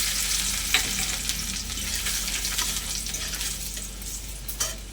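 Chopped garlic fries in hot oil with dried red chilli and nigella seeds for patal bharta, a steady crackling sizzle with a few sharp pops and spatula stirs.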